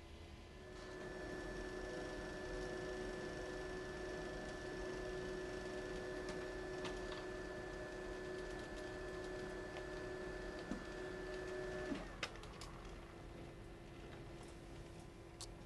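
A GO UNO color laser printer runs steadily while printing onto hard surface paper, a sustained whirring hum with a few small clicks, stopping abruptly near the end, with no talk.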